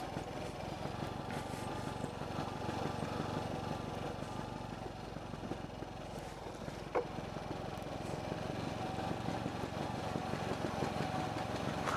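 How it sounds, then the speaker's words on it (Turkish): A motor vehicle engine runs steadily in a rural Aegean village, its exhaust putt-putting at a constant low idle throughout, close and moderately loud, with no talk over it. "Egzoz."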